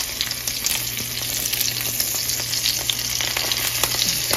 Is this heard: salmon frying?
yes